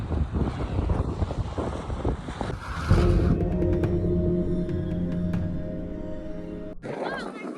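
Strong storm wind gusting across an open village setting, a loud steady roar with buffeting against the microphone that eases into a lower rushing, while a voice speaks faintly underneath.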